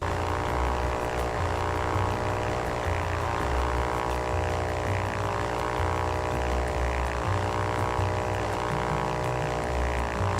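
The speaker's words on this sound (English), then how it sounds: "Now take off and keep the aircraft steady as you fly towards the" Propeller aircraft in the flying game Ultrawings taking off and cruising, a steady loud engine drone with a rhythmic pulsing hum that holds evenly throughout, no voices.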